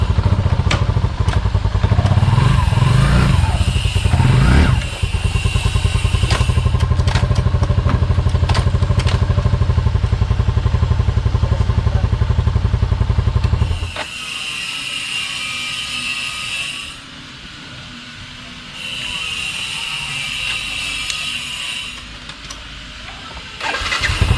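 A Yamaha SZ150 motorcycle engine idles and revs loudly up close, rumbling heavily, then drops to a quieter running hum with intermittent higher-pitched whines.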